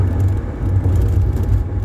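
Car engine rising as the accelerator is pressed hard, a loud steady low rumble with a humming drone from inside the vehicle, brief and continuous with no talking.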